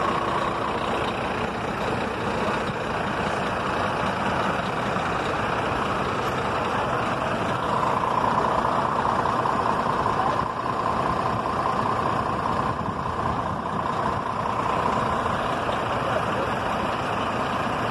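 A stuck truck's engine running steadily with a low, heavy drone, close and continuous, with a slight swell partway through and no clear talk over it.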